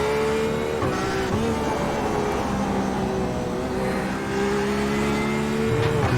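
Racing cars, including a Mazda Miata, roar continuously around the Okayama circuit in a sim racing game, engines droning and shifting pitch as they accelerate, loud and sustained.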